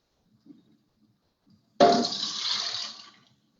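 Milk poured into yogurt for sweet lassi, a steady liquid pour that starts abruptly and runs for just over a second before tapering off, close and clear with no talking.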